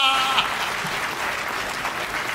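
An audience claps through a burst of applause at a Hindi comic poetry show, dense and steady from start to finish, with no break in the clapping.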